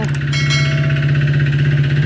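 Honda ADV160 motorcycle engine running loud and close with a steady droning hum and a rapid rhythmic knock from a bad connecting rod, continuous throughout.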